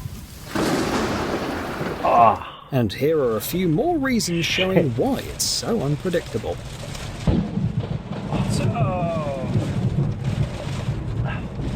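Thunder rumbles through steady rain during a lightning storm, with a deep crack near the start, while someone talks over it.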